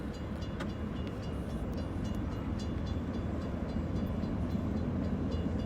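A 12,000-foot CSX freight train rolls past on the Henderson Subdivision in Hanson, Kentucky, giving a steady, continuous low rumble with no voices over it.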